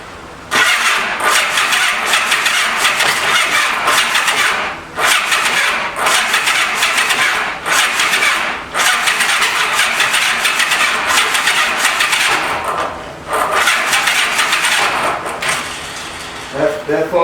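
A 1985 Honda Gold Wing 1200cc motorcycle, stale old gas in it, cranks over and over without catching, a loud continuous churning broken by a few short pauses between attempts.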